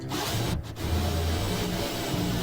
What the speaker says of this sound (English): But first we gotta drill some holes for these U-bolts, or U-clamps.